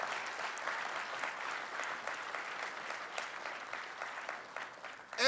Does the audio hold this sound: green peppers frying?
no